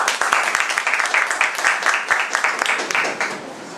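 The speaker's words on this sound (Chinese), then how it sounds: "来掌声欢迎我们" An audience at a live talk event in Kaohsiung applauds, steady dense clapping from many hands that carries through and fades slightly toward the end.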